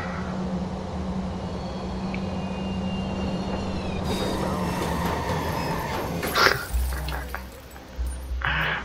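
A train in the Watch_Dogs video game rumbles past as a steady, loud low drone with a faint high whine, then clunks and thuds near the end, while someone talks over it.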